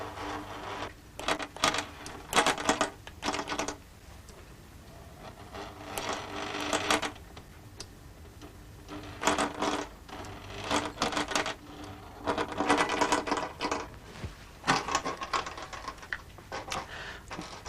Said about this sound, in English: I think you can see the stepper motor moving the needle in this machine.